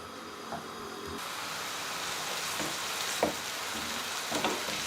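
Chopped onion frying in olive oil in a pan, a constant close sizzling hiss with a few brief clinks or stirring knocks, no talking.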